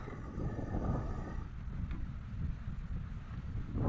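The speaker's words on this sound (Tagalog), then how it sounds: "Medyo malakas yung hangin kasi dito tayo sa tabing dagat at ilog" Steady wind roars and buffets across the open air by the sea and a river, with a low rumbling rush and no voices.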